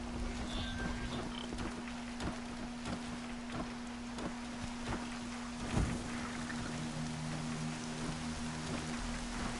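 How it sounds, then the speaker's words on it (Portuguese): Steady rain falls in the open-world game Horizon Zero Dawn, a continuous even patter with a constant low hum beneath it and occasional soft thumps. "And there's the rain."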